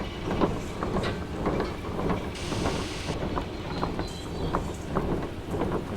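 Inside the Derail Valley VR game, a diesel locomotive labours to push a train, a steady rumbling engine drone with rhythmic mechanical pulsing and a brief higher hiss partway through, heard alone without talk.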